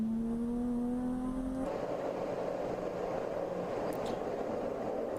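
A race car engine drones steadily on track during an endurance race, a sustained engine note that shifts pitch partway through, moderately loud and without talk.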